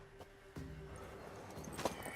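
In The Witcher 3, a mare's hooves clop faintly and irregularly on the ground, with a soft snort and distant background noise.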